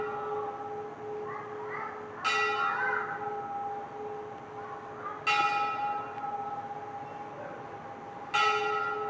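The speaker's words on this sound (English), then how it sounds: "just wait till the bell comes." A large church bell strikes three times at slow, even intervals, each ring sustaining and fading over a low murmur.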